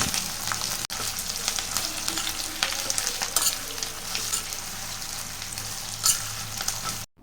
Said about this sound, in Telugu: సన్నగా కట్ చేసి పెట్టుకున్న ఆనియన్ కూడా వేసుకొని దాంతోపాటు కొంచెం కరివేపాకు కూడా వేసుకొని మంచిగా ఫ్రై చేసుకోవాలి